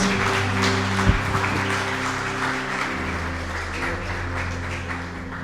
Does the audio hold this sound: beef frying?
no